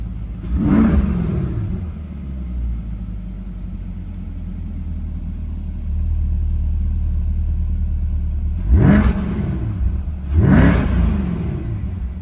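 Corvette C8 exhaust fitted with aftermarket tips, revved loudly three times with sharp rising bursts over a low, steady idle rumble, heard up close.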